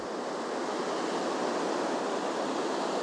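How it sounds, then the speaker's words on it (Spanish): Ocean waves wash in a steady, soft, broadband surf roar, even and unbroken, heard alone with no voices. "Escuchad el sonido de este océano"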